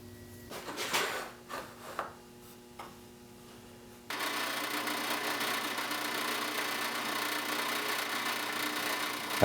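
A few light knocks on a wooden jig backstop give way to a steady, close drill whine that runs on for several seconds.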